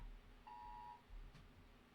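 A single short electronic alarm beep sounds once, faint and thin against a quiet room hum, with no other sound around it.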